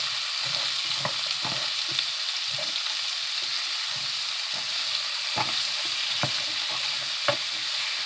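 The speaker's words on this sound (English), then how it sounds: "I just want to get a sizzle" Beef, onion and garlic sizzle steadily in a pot for soup, a continuous bright hiss broken by scraping stirs and a few sharp utensil clicks, close and fairly loud with no talking.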